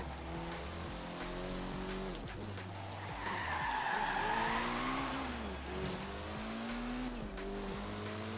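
Tires squeal and skid on a Mitsubishi Evo 8 MR under power oversteer in the Forza Horizon 3 racing game, a loud sustained screech swelling mid-run over the steady droning engine note as it revs and shifts.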